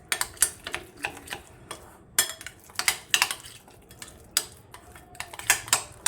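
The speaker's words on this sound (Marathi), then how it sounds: "दह्यात पूर्ण हा मसाला असा मिक्स करून घ्यायचा आहे" A spoon clinks and scrapes against a bowl in quick irregular taps while spice masala is stirred into yogurt for stuffed green chillies, close and fairly loud with no talking.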